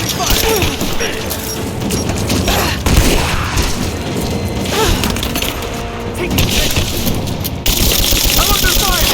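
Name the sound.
gunfire in video game Rise of the Tomb Raider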